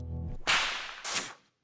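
A whip cracks sharply twice, each snap a sonic boom from the tip, the first preceded by a brief low hum and the second fading quickly into silence.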